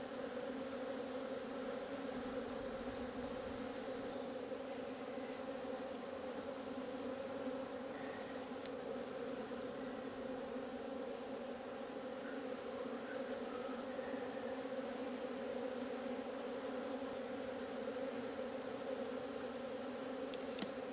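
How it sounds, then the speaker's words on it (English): A dense, continuous drone of a swarm of agitated backyard bees at open hives buzzing all around, steady and shrill with no pauses. "Just a shrill roar of bees all around me."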